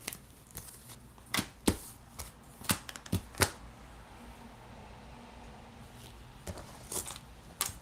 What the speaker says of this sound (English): And a whole bunch of cards just flew out.